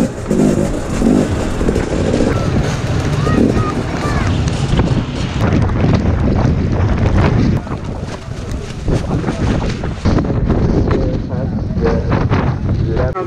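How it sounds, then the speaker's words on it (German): Strong wind buffets the microphone with a loud, continuous roar at a muddy outdoor motorbike race in heavy rain, with faint engine sounds in the distance. "Der Regen ist stärker geworden, die Temperaturen kälter, der Wind ist stärker geworden."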